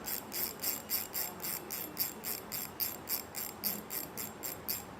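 A Shimano Cardiff XR fishing reel cranks with steady, rhythmic ratchet clicks, about three per second, close and fairly quiet, with no voices.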